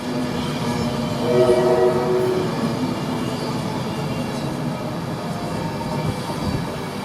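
A train at Grantham railway station, locomotive 82208 on the front, rumbling steadily through the platform for several seconds, with a tonal horn-like note rising briefly near the start over constant broadband rail noise.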